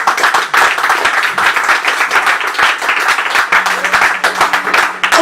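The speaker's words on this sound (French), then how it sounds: "Acclamez, hein?" A church congregation applauds during a sermon, with sustained, dense clapping that stays loud and steady for the whole stretch and a few voices mixed in underneath.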